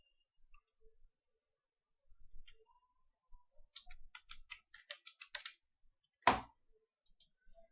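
Names being typed on a computer keyboard into an MS Word document: quiet, sparse key clicks in short bursts with pauses, ending in one louder, sharper keystroke, in a silent room with no talking.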